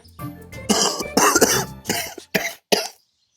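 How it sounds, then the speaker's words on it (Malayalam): A series of harsh, loud coughs up close, several rough bursts in a row with short gaps, ending in silence. "കണ്ട ചുമക്കുന്ന കണ്ട?"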